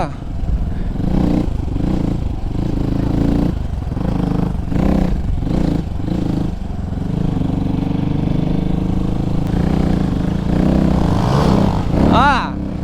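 A 250cc Suzeromoto dirt bike engine runs steadily while riding, revving and droning loudly with a rising whine near the end.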